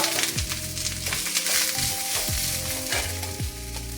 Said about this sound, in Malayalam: വെളിച്ചെണ്ണ ഒഴിക്കുന്നു ഇനി അതിലേക്ക് രണ്ട് ഉള്ളി അരിഞ്ഞതും കുറച്ച് വേപ്പിലയും ഒരു മൂന്നാല് ടീസ്പൂൺ നാളികേരം